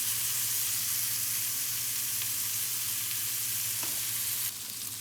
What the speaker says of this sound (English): So we're just searing it now.